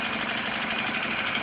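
A VAZ 21099 fitted with a V8 engine, forged rods and titanium pistons, runs steadily with a loud, continuous, even roar and no pauses.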